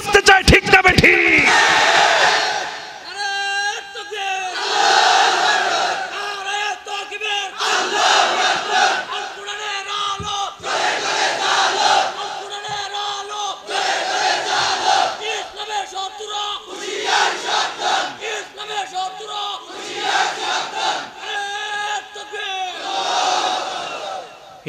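A large crowd chants the Nara-e-Takbir slogan in loud, rhythmic, repeated shouts at a religious gathering, with brief pauses between the massed calls.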